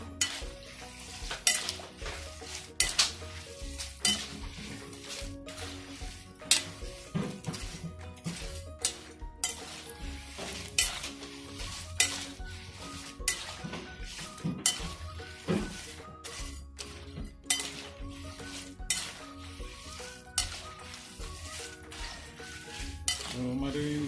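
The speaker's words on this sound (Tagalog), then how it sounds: "So pag narinig nyo na yung kalasing ng medyo crispy na yung saging natin." Sliced banana chips fry crisply in hot oil in a pan while being stirred, with steady sizzling and frequent sharp clinks and scrapes of a utensil against the pan, close and busy throughout.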